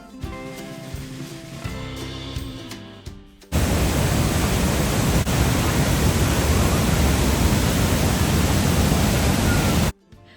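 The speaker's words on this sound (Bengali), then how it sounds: "পার সেকেন্ডে এইসব জলপ্রপাতগুলি থেকে প্রায় দুশো পঁচাশি হাজার লিটার জল প্রবাহিত হয়" Niagara Falls roaring with a dense, loud, steady wash of falling water filling everything for several seconds after a shift from an unrelated noisier passage, then cutting off abruptly.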